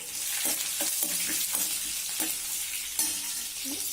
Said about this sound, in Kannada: ಒಂದು ಸ್ವಲ್ಪ ಸಾಸಿವೆ, ಜೀರಿಗೆ ಹಾಕೊಳ್ತಿದ್ದೀನಿ. ಹಸಿಮೆಣಸಿನಕಾಯಿ ಹಾಕೊಳ್ತಾ ಇದ್ದೀನಿ.